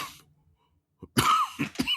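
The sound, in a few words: cough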